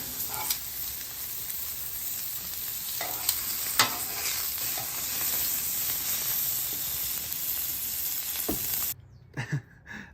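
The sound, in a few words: pork chops sizzling on a Blackstone griddle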